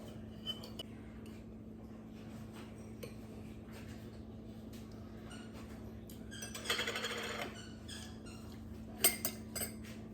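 A utensil clatters against a pan while vegetable fried rice is mixed, with scattered clinks over a steady kitchen hum. Midway comes a louder stretch of scraping and sizzling, then a few sharp knocks near the end.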